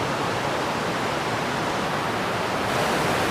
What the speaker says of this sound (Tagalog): Napakalakas ng agos ng tubig.